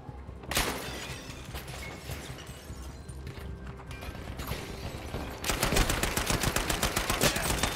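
Gunfire in Battlefield V, including Grease Gun fire: scattered shots early, then a loud rapid automatic burst with sharp repeated cracks in the final seconds, mixed with mechanical clatter.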